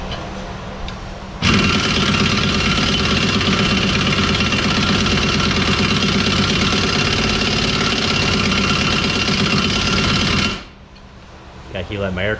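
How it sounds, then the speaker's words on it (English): An air compressor runs loud and steady in a garage during a front bearing replacement on a 2008 Ford Focus, a constant mechanical drone that kicks on abruptly, holds for about nine seconds, then cuts off. "he let my air compressor catch up"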